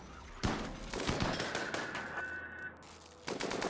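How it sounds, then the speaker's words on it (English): Video game gunfire comes as rapid bursts of machine-gun shots, loud and close, with thumping impacts and a thin whine, fading briefly before another burst starts. "Of course, Myth is getting shot."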